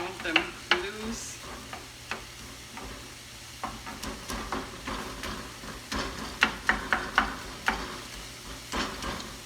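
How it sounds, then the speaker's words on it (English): Loose onions water-sautéing in a pan: a soft, quiet sizzle punctuated by a regular series of sharp scraping and tapping stirs, close by and without talk. "so we fry these water saute, not fry our onions"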